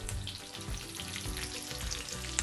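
Ginger and green chilli pieces frying in a pan for tomato chaat, with a steady close sizzle and crackle and occasional stirring scrapes. No one speaks.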